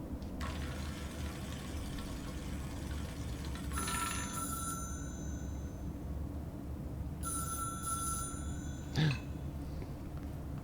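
Telephone in the video game Control: an old-style bell ringing in two bursts several seconds apart, over a low steady hum of ambience, fairly faint, with no talk.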